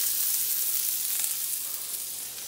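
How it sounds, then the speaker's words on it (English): Steak sizzles in a hot wok before fried rice is built around it, a loud, close, continuous hiss and crackle of frying that holds steady throughout with no voices. "You can do your steak right in the wok before you do build your fried rice."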